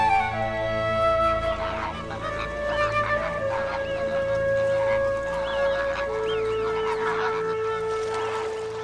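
Greater flamingos calling at Chilika wetland, a steady chorus of nasal, honking calls with sustained tonal notes overlapping continuously, fairly close and full throughout.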